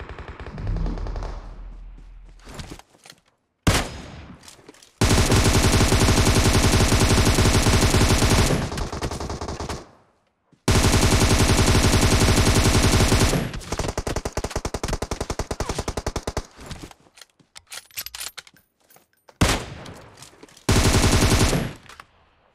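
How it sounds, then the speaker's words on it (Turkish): Automatic weapon fire rattles in the mobile shooter PUBG Mobile on the Sanhok map, with long loud sustained bursts of rapid shots separated by short silent gaps, heard alone without talk. "Arkadan da hala sıkan var ya."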